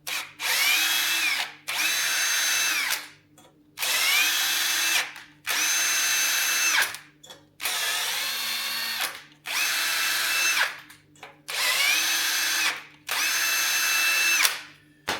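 A power drill taps M5 threads into 4.2mm holes in metal in repeated bursts, about eight runs separated by brief pauses, loud and close, with a steady high mechanical whine.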